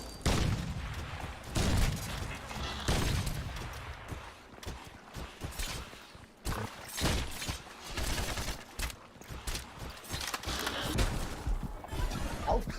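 Rapid gunfire bursts from a Crysis 2 alien fight, with repeated sharp shots and booms at an uneven rhythm over a busy game soundscape, moderately quiet overall.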